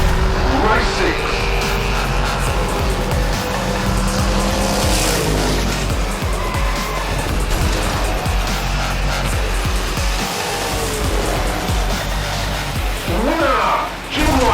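Hot Wheels diecast cars, a '32 Ford and a Street Creeper, racing on a track, heard as loud continuous whirring and rattling with squeal-like tones, under a fast-talking race commentator.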